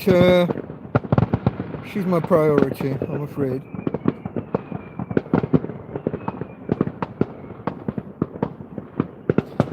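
Fireworks bang outside on New Year's Eve, a rapid series of sharp pops and crackles, moderately distant, running through the whole stretch while someone talks indoors.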